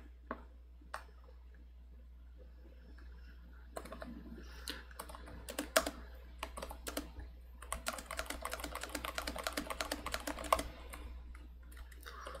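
Typing on a computer keyboard while writing C code: a few isolated key taps at first, then bursts of quick, fairly close clicking that grow denser toward the end, with a low steady hum underneath.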